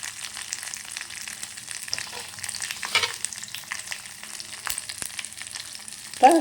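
Karisalankanni (bhringaraj) greens are sautéed in a pan with golden urad dal and coconut. The quiet, steady sizzle is broken by occasional scraping stirs, with no talk.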